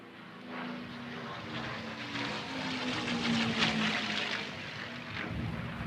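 A wartime RAAF aircraft flies past during a Legacy centenary commemoration ceremony in Australia, its steady propeller engine drone rising to a loud peak mid-pass and then holding strong without talk.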